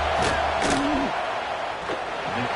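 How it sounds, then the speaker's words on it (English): Stadium crowd roars in College Football 26 as a field goal unit lines up on fourth down in South Carolina vs Florida, a steady dense wall of noise with rising yells and a brief shout near the end. "This crowd trying to do its part to get inside the kicker's head"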